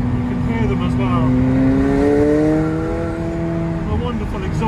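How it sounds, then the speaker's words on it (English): A McLaren 720S in sport mode, its twin turbos whooshing and exhaust bubbling as it pulls, heard as a steady rising engine drone that climbs in pitch, with a voice talking over it. "You feel the whoosh of those turbos behind me. You can hear them as well."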